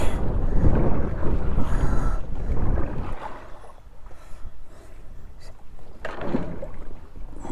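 Gusty wind buffeting the microphone outdoors beside a pond, heavy roaring rumble for the first few seconds, then easing into lighter intermittent gusts.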